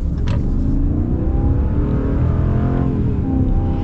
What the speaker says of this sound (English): we're gonna get our full-blown acceleration here with the Power Wagon